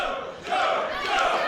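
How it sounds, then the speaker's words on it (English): A wrestling crowd at a deathmatch cage event roars for Big Joe, a loud, sustained mass cheer that swells partway through. "This crowd coming alive for Big Effing Joe, ladies and gentlemen."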